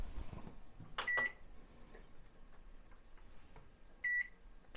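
Two short electronic beeps from a kitchen appliance clock being adjusted, spaced about three seconds apart, each a bright tone, in a quiet room with faint background handling noise.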